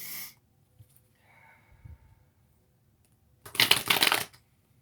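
Tarot cards shuffled by hand in a bright, riffling burst near the end, preceded by a quick flutter at the start and soft handling noises in between, with no talking.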